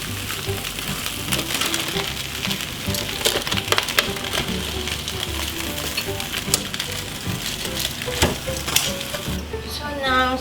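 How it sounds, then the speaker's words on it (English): Steady sizzling of sausages frying in a pan, a continuous crackle with occasional sharper pops, close and moderately loud, no talking. "Same thing like you would do if you're frying on the frying pan"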